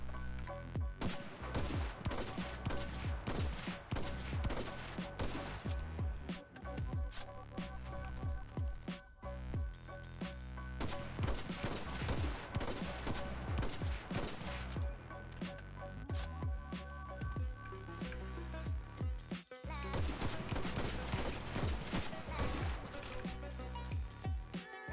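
Rifle gunfire in the video game CRSED F.O.A.D, rapid repeated shots in dense bursts with brief pauses, steady and close throughout.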